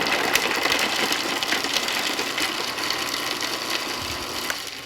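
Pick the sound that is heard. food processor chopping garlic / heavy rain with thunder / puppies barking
food processor chopping garlic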